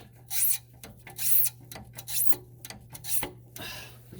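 A wrench cranks a stubborn O2 sensor out of a 2010 Mazda 5, giving close, rhythmic rasping scrapes in repeated bursts with short pauses between strokes and no talking.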